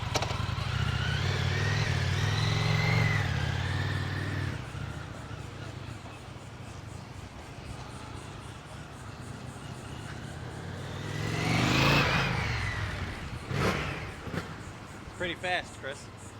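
An Indian motorcycle engine starts and runs, with a throaty idle that swells into a louder rev near the end, while voices talk close by throughout.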